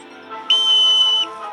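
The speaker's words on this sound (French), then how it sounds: "Au coup de sifflet, 3, 2, 2, 2, 3, sifflet." A single shrill whistle blow, steady and loud for about three quarters of a second, over a faint background hum.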